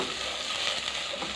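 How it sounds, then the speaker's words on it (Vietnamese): Minced dried shallots and garlic sizzle steadily in a hot pan, a continuous close frying hiss with faint stirring, no voices. "Đây mình cho một ít cái hành tỏi khô băm nhuyễn vào, mình phi lên cho nó thơm nhé."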